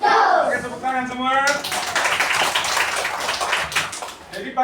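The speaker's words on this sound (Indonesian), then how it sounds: "Oke, tepuk tangan semua." Children clap their hands together in a dense, lively burst of many hands, beginning after a spoken call and continuing loudly for several seconds in a school classroom before a physical education lesson.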